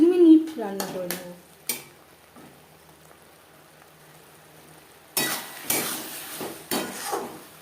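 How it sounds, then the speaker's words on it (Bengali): Egg curry is stirred in a pan over a high gas flame, with a few metal clanks and scrapes near the start, then a louder spell of clattering and sizzling stirring near the end. A voice is heard briefly at the start. "আমি 1-2 বার নাড়াচাড়া করে দিয়েছি"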